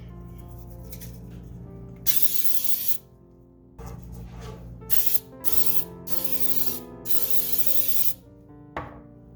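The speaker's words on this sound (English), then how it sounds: "I'm going to spray them with some Baker's Joy." Several bursts of Baker's Joy baking spray hissing into round cake pans, short and long, over a steady background hum and soft music.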